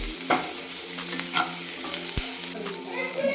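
Chutney ingredients with chilies frying in a pan in Karnataka-style cooking, a close, steady sizzle with repeated stirring scrapes and clinks throughout.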